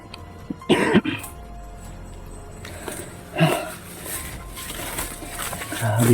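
Person coughing while hot and sweaty, with one sharp close cough early on and a fainter one later, amid quiet background noise.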